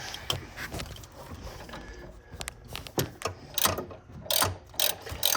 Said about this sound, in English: now we'll go back up top and we will tighten up our upper strut bolts